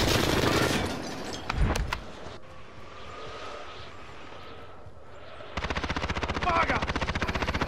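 Rapid automatic assault rifle gunfire from a video game, a loud burst near the start, then a steady fast-repeating volley of shots toward the end over a low background rumble.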